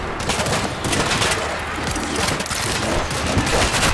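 Gunfire from World War Z during a zombie fight in Tokyo, a loud, dense stream of rapid shots layered into continuous automatic fire with no pauses.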